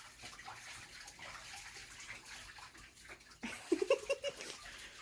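Water from a handheld sprayer splashes into a bathtub holding toy ducks, a soft steady wash that grows louder and sputters near the end, with faint background noise and no talk.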